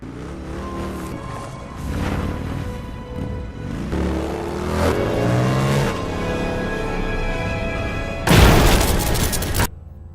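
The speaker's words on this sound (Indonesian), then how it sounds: "Kemudian Kurt memutuskan untuk melompat menggunakan motor yang dia bawa" Film action scene of a motorcycle jump from a horror movie, with revving engine roars and pitch sweeps building up, then a loud crashing burst near the end, dramatic score underneath.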